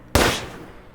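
A single loud gunshot sound effect for a tabletop role-playing game scene, one sharp close blast followed by a quickly fading echo, alone without speech.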